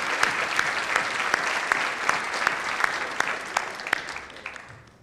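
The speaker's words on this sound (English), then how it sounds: "please, a round of applause for yourselves and for my colleagues that are all over the building" Audience applause at a high school senior awards ceremony: a steady, dense clapping from a large crowd, with sharp individual claps popping out, gradually tapering off toward the end.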